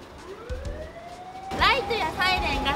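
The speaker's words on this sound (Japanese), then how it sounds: "ライトやサイレンがちゃんと鳴るかをちゃんと確認するんですね。" A fire engine siren is sounded during a pre-dispatch check at the Ichihara City fire department, a winding wail rising steadily in pitch; partway through, voices begin talking over it.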